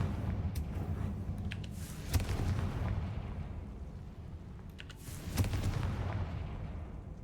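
The Confringo fire spell from the video game Hogwarts Legacy: two booming blasts a few seconds apart, each a sharp crack followed by a rolling rumble, over a steady low game ambience.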